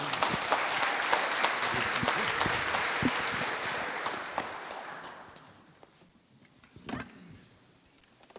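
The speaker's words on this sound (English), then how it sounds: "Big round of applause for Amir." Applause from the audience at a London AI meetup: dense, steady clapping fills the room for about five seconds, then thins out into scattered claps and fades, with a brief louder burst near the end.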